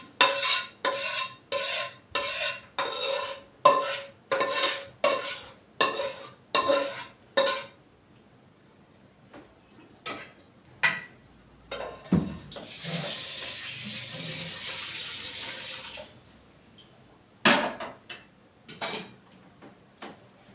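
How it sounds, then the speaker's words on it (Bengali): Potol curry being poured and served into a metal plate, with a run of about ten sharp, evenly spaced metallic clinks and scrapes from dishes and utensils up close, then a short wash of water-like hiss and a few scattered clatters. "আমি একটা থালা টাইপের, প্লেট টাইপের থালা নিয়ে নিয়েছি বন্ধুরা, এর মধ্যেই ঢেলে দিচ্ছি।"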